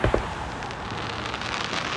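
Fireworks on Independence Day pop and crackle in a dense, continuous wash, with a couple of sharper bursts near the start and a steady rain of sparkle throughout.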